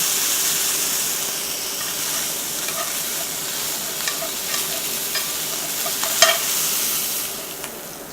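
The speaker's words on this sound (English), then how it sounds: "Sizzle, sizzle." Beef pieces sizzle steadily while frying in a pan, a continuous close hiss with a few brief pops and crackles near the end, no talk over it.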